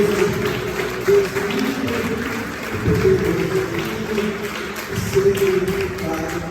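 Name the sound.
congregation applauding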